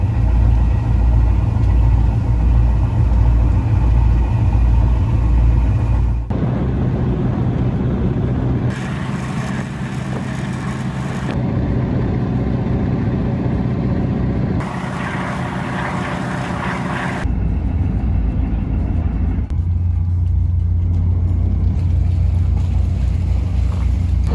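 A motorboat cruises at sea toward Corfu, with a steady loud engine drone and rushing water and wind noise running continuously, shifting in tone between sections.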